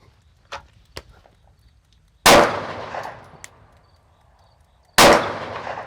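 Two loud, sharp handgun shots fired at a target during a compact-pistol test in the rain, spaced a few seconds apart, each with a short decaying echo, with a few faint clicks beforehand.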